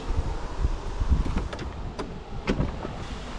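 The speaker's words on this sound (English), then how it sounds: "You hear that wind just whipping out there." Gusty wind buffets the microphone outdoors, a continuous low rumble with a few sharp knocks and rattles, no talking.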